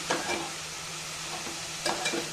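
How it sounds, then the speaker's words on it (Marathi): Korla greens fry with onions in a pan, with gentle steady sizzling and two short bursts of stirring and scraping close by. No one speaks. "सगळीकडून तिला हलवून घ्यायची। हलवली कांद्यामध्ये चांगली"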